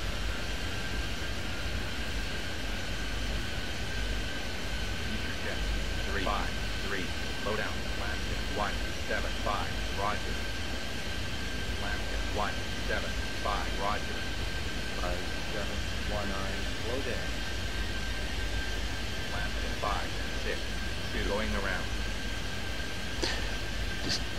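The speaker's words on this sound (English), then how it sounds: "lots of planes moving" Simulated airplanes taxi and take off at LaGuardia in the Airport Madness 3D air traffic control game, a steady engine drone and rumble running throughout with a voice speaking over it.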